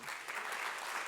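An audience at an evening talk applauds with dense, steady clapping that holds at an even level for about a second, heard from within the room.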